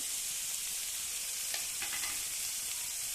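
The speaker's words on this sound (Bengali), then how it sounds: "মশলাটাকে ভালো করে কষিয়ে নেব।" Spices fry and sizzle in a pan for a chickpea chicken curry. A continuous close sizzle runs throughout, with a few scraping stirs partway through.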